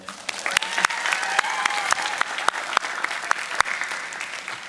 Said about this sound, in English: Another round of applause for Will Bailey.